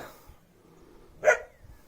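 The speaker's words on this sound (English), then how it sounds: "They're barking away." Two country dogs kept by a caretaker at a Kodaikanal home give a single sharp bark partway through, fairly close, with quiet outdoor background before and after.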